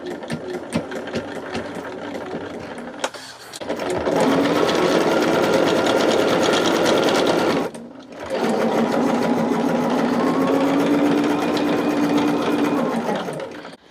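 A sewing machine runs a quarter-inch seam in two long steady bursts, with a short pause between. The motor hum and rapid needle chatter are close and loud, and no one speaks.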